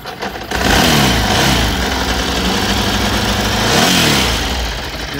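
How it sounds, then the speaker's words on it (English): A 2003 Ducati Multistrada 1000DS with a fuel-injected V-twin engine runs up close and loud, a rough throbbing rumble with two brief revs that rise and settle back to idle, alone without talk. "It has the Ducati rumble. The V-twin engine runs very strong."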